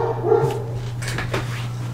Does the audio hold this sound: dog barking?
yes